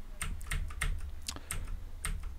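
Typing on a computer keyboard, close crisp clicks in short irregular bursts of several keystrokes with brief pauses, no voices.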